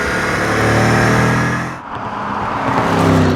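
A 2015 Dodge Challenger SRT Hellcat V8 engine rumbles loudly with a deep, throaty tone, the revs swelling then dipping briefly before building again.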